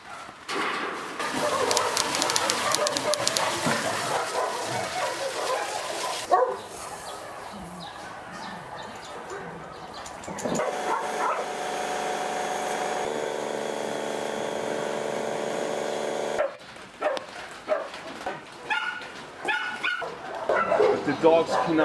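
Several rescued dogs in the rain bark and yip repeatedly, some close and loud and others farther off, with occasional whimpers, while people talk intermittently amid shifting background noise.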